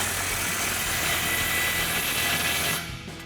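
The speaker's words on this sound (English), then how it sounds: "we're gonna grab our impact and 15mm socket and tighten down our clamps just as needed" An impact wrench with a 15mm socket tightens exhaust clamps on a RAM 1500 dual exhaust. A loud, steady broadband whir runs up close for nearly three seconds, then cuts off abruptly. No one speaks.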